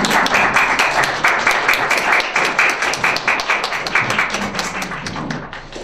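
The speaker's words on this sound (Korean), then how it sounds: "여러분 큰 박수로 환영해 주시기 바랍니다" Audience applause at a philosophy seminar in a lecture hall, steady dense clapping throughout, loud and close, welcoming a guest lecturer.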